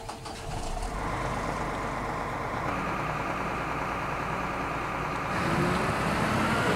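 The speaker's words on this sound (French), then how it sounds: "Alors, la Jaguar, on va la démarrer." A Jaguar forage harvester engine starts up in a farming simulation game, catching quickly and settling into a steady, loud mechanical drone that swells slightly toward the end.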